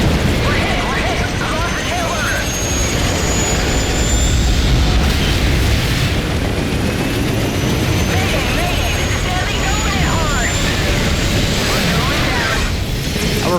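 A friendly helicopter is hit and explodes in the Call of Duty 4 video game, a loud, dense rumble of blast and rotor noise filling the whole scene with steady intensity and no talk.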